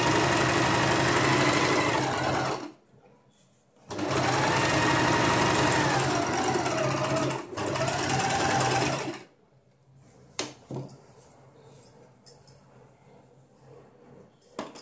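A sewing machine stitches a boat neck blouse in two loud, steady whirring runs separated by short pauses, followed by quieter clicks and handling of fabric.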